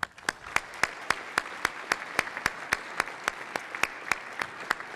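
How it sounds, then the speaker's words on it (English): Audience applause in a legislative chamber: steady, rhythmic clapping with distinct sharp claps in an even beat over a softer background of many hands, continuing evenly throughout. "Let's give them a round of applause,"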